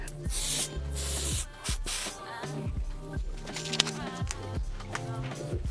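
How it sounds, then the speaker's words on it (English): Bursts of hair melting spray hiss in short aerosol blasts, close up, during a glueless wig install, with soft rubbing and brushing sounds between them and a voice talking quietly underneath. "I'm gonna apply my melting spray"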